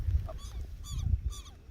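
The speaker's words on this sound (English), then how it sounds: "We are trying to figure out the distribution of the doorbell bird in this area." Doorbell bird calling outdoors in Paraguay, several clear, ringing, harmonic notes in short bursts repeated at intervals, moderately close, with no talk over them.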